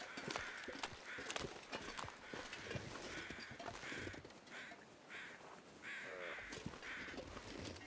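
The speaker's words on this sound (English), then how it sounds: "I hear crows." Crows cawing in the survival video game The Long Dark, repeated harsh calls in uneven bursts over a steady windy ambient bed, moderately close, with soft crunching footsteps underneath.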